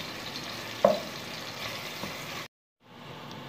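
Onions browning in hot oil in a pan for a Kokni-style cauliflower, potato and prawn curry, a steady close sizzle with one sharp pop near the start, then a brief cutoff to silence before the frying resumes.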